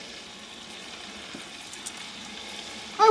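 Deer meat frying in a skillet, a soft steady sizzle that holds low and even throughout, with a brief louder clatter right at the end.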